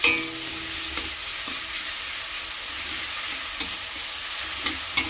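Salt and garlic paste go into a frying pan for egg ghugni, with a steady soft sizzle and a few light spoon taps and scrapes of stirring, close and moderately quiet.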